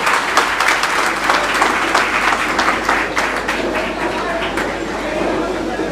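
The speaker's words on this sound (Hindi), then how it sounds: "जोरदार तालियों से इनका इस्तकबाल करते हैं।" Audience applause welcoming a chief guest at an event in Surat, a dense, steady wash of many hands clapping close and loud throughout, with voices mixed underneath.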